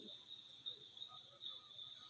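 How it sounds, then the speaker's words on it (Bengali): Steady high-pitched cricket chirping in Pelling, continuous and fairly faint, over a low background hum with no voices. "একটা ঝিঝি পোকার ডাক।"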